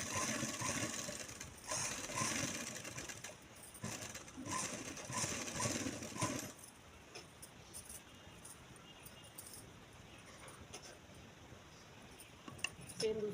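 Sewing machine stitching baby shorts in a boutique workshop, with bursts of close, rapid stitching chatter in the first half, then quieter background.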